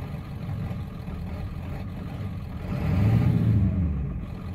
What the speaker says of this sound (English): sometimes I can rev it and get it to smooth out